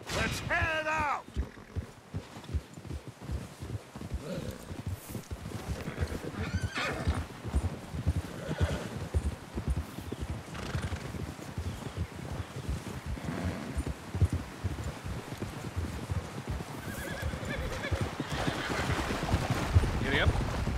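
Horses in the Western video game Red Dead Redemption 2 gallop with steady hoofbeats and occasional whinnies, alongside a swelling game soundtrack and background noise during a train-robbery mission, with people talking at points.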